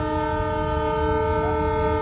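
Train horn blaring as the train slows for a cow running along the tracks: one loud, sustained multi-tone blast, close and continuous, with the rumble of the train beneath it.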